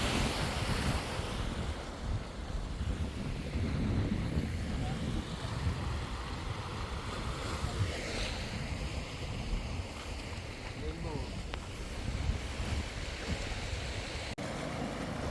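Sea waves washing over a rocky beach at Maragondon, Cavite, a continuous broad surf roar mixed with gusting wind noise on the microphone, with voices talking underneath.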